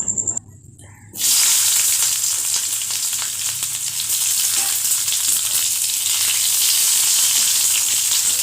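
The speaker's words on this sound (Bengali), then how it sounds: "পেঁয়াজটা কিন্তু একেবারে বেশি ভাজবো না হালকা ভাজা অবস্থায় আমি লতিগুলো এর মধ্যে দেব" Onion dropped into hot oil with nigella seeds and dried chilli erupts into a loud, close, continuous sizzle after a brief quiet moment, then keeps frying steadily.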